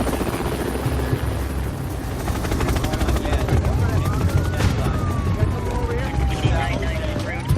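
Helicopter rotor noise holds steady and close throughout, a thick low throbbing with a faint whine gliding down near the end, standing by near a roadside bomb scene.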